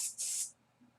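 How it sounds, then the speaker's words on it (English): Two quick hissing spritzes from a spray bottle close by, the second longer, followed by quiet room tone. "I have a spray bottle out here too,"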